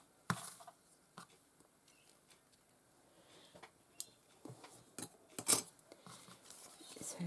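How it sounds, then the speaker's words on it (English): Scissors snipping loose threads off fabric ruffles during a paper craft session, a few sharp, quiet cuts scattered across a faint, still room with no talking. "Just got a couple of threads to cut off there."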